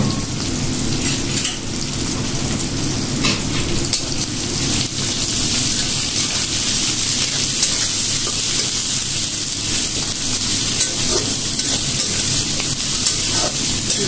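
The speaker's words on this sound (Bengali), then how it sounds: "পেঁয়াজটা একটু হালকা ভেজে তারপরে কিমার কোটটা বানাই নেবো।" Onions frying lightly in oil in a pan on a gas cylinder stove, a steady, even sizzle with crackling spatters running the whole time, with no talking.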